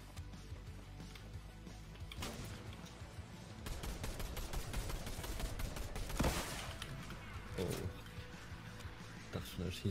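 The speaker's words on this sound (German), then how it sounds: "Schießt jemand auf mich?" Video game gunfire crackles in bursts through a busy mix of in-game noise, with sharper shots standing out around the middle, while a player talks over it.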